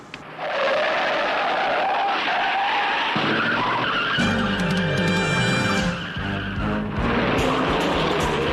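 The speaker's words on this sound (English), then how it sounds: "Roy, that was his car. Turn around" A car turns around with its tires skidding and squealing, a loud sustained screech that shifts pitch midway, with engine revving beneath and no voices.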